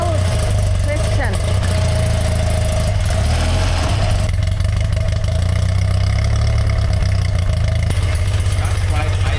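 A 45-year-old BMW R100 motorcycle idles unevenly nearby, its loud, low engine throb running throughout, with people talking over it.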